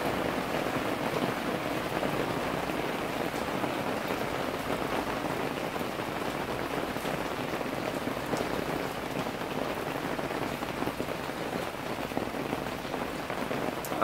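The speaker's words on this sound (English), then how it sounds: "I think the rain is gonna ease up here" A sudden heavy downpour during a summer storm over Peterborough hammers steadily on surfaces, a dense, loud, unbroken hiss of rain with no voices.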